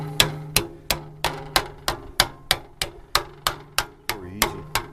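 A hammer taps an 18 gauge steel fender from a Suzuki Samurai SJ413 JA51 that is clamped to heavy girder steel, giving a steady series of about fourteen sharp ringing metallic strikes, close and even in rhythm.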